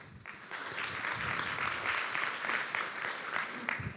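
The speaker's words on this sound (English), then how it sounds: "Let's welcome Mr. Deepak Ramanathan with the warmest claps." Steady applause from a conference audience at an analytics forum welcoming a speaker, a dense, even clapping that fills the whole stretch at moderate volume.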